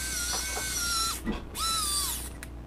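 A small motor whirs in two rising-and-falling whines with a couple of clicks between them while a fitting is loosened on a Coretex RC Tiny 90 brushless quadcopter build, close up, with no talking.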